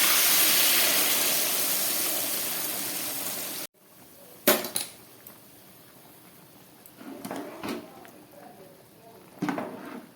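Warm water poured into a hot pan of hilsa fish curry with ridge gourd and potato, giving a loud broad steady hiss for several seconds that cuts off abruptly, followed by quieter bubbling with scattered clicks and clatters.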